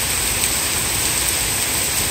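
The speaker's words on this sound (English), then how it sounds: "Now you can see this rain is really coming down." Heavy rain pours steadily during a thunderstorm in New York City, a dense, loud, unbroken hiss with no talk.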